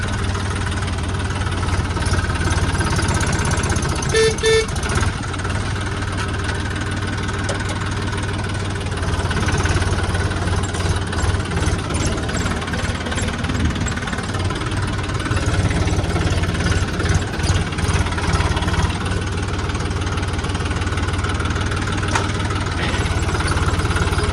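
A tractor engine idles steadily and close by, a continuous low diesel rumble with a faint knocking texture and light vibration, running alone without talk for the whole stretch.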